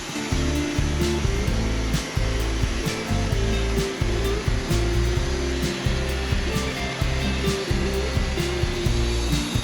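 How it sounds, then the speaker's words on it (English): A Wood-Mizer bandsaw mill cuts a flitch from a big Douglas fir log with a loud, continuous engine-and-blade roar. Steady pulsing strokes repeat about every second, close and unbroken throughout. "All right, get that flitch cut done, get it off the log."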